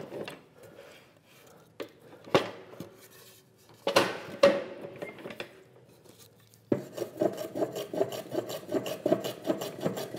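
A wooden workbench edge bevelled by hand with a plane or rasp-like tool, giving scattered rubbing and scraping strokes that turn into a steady, close rhythmic rasping run toward the end, with no talking.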